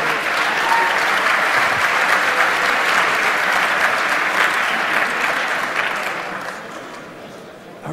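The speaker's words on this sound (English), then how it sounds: "give a round of applause to all of the angels" Sustained audience applause fills a conference hall at a security and cryptography congress talk, a dense, steady clapping from a large crowd that slowly fades toward the end.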